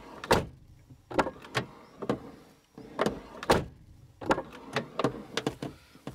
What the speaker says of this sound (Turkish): çıkan ikinci kilit sesidir